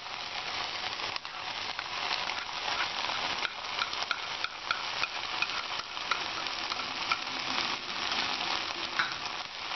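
Ground spices with turmeric and softened tomato sautéing in a pan for aloo gobi matar curry, a steady close sizzle with repeated scraping stirs and occasional light utensil taps.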